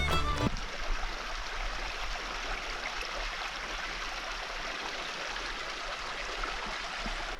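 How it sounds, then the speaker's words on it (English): Creek water flowing below a steep trail at a campground in Shasta-Trinity National Forest, a steady broadband rushing that holds at an even level throughout after a brief bump at the start. "I can hear the water in the creek right down below me"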